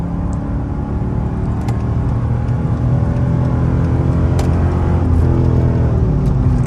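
A second-generation Dodge Charger on lowering springs pulls away under power, a steady, loud low engine rumble and drivetrain whir from inside the car that builds slightly toward the end, with no talk.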